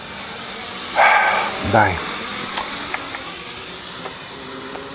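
Desire H502S drone in flight, a thin steady high-pitched motor whine running throughout, with a man's short spoken remarks and a couple of louder bursts near the start.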